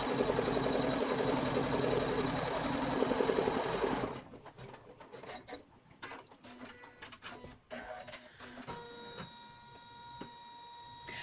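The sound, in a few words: embroidery machine stitching zipper bag in the hoop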